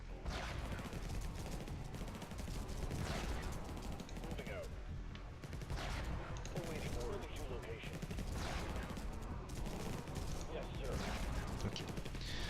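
Dense gunfire from snipers and guns in the video game Infested Planet forms a continuous barrage of rapid shots and crashes throughout, loud, with a voice talking over it.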